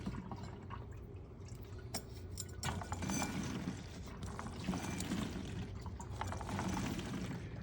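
Hydraulic fluid mixed with diesel fuel is pumped by hand from a Scag hydrostatic wheel motor into a container, giving steady liquid pouring and dripping with light clinks, close and continuous.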